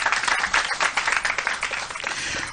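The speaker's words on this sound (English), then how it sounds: "Round of applause for our speaker." Round of applause from a press conference crowd in Ghana, dense sustained clapping that fills the room evenly and stays loud and close, with no talk over it.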